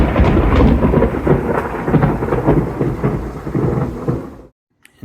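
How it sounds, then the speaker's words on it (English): Thunder rolls through a storm with rain, a deep continuous rumble in the distance under steady rainfall that cuts off abruptly near the end. "there's thunder in the distance"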